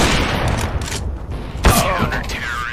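A gunshot in CS:GO, with loud continuous game noise and one sharp, punchy crack in the middle followed by a brief ringing tail.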